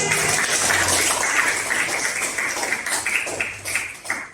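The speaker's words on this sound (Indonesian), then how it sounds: "Beri tepuk tangan." A classroom of students claps together in a steady, close, sustained round of applause that trails off slightly toward the end.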